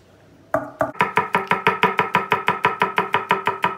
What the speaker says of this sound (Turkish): İnce doğrayacağız.